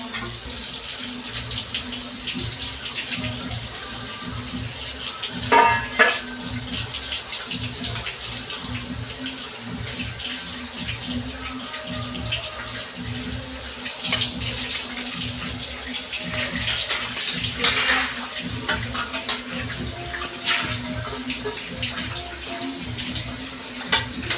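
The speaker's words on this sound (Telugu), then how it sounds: "మొత్తం వంట చేసిన తర్వాత ఉన్న గిన్నెలు కడిగేసుకోవాలి చిన్నగా." Cooking pots being washed under a running kitchen tap, a continuous close rush of water with occasional clinks and splashes from the vessels, no talk over it.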